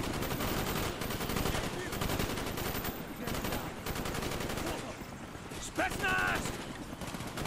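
Sustained rapid machine-gun and rifle fire in the Call of Duty Black Ops campaign, loud and dense with brief gaps, someone talking over parts of it.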